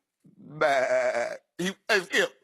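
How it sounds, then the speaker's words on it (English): A sheep bleats in a long wavering call followed by two shorter bleats, close and clear, with no talk over it. "I thought that's a sheep."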